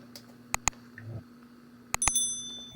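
Bright notification bell dings sound in two quick pairs of sharp metallic strikes, the last one ringing out briefly, crisp and close against a quiet background.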